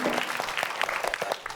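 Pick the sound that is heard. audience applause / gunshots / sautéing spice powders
audience applause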